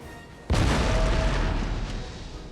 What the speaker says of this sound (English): Shots firing off from either side.